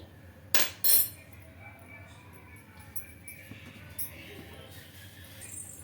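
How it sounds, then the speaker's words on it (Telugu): A spoon clinks loudly twice against a pot where silver anklets boil in water with tea powder, followed by fainter scrapes and taps amid a low bubbling background. "ఇలా స్పూన్తో అయితే కలుపుతున్నాను ఒకసారి"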